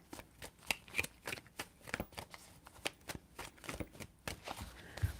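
Tarot cards shuffled by hand in a quiet room, a run of crisp riffling bursts and soft slaps in irregular rhythm, close and fairly faint, with no talking.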